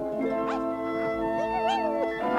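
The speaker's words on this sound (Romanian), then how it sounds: "Azrael, ai auzit? Este un câine în pădure." A cartoon dog barks and yips in a forest, with a series of near, tonal, whining barks and a howl-like rising cry over a steady musical background.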